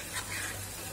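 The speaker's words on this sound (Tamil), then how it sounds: "இப்ப நல்லா கொதிக்கிறது பாருங்க." A soft, steady bubbling and sizzling of raw mango pachadi simmering in a pan, close and continuous, with no voices.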